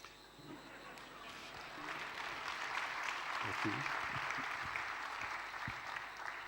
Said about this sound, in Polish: O czym świadczą te oklaski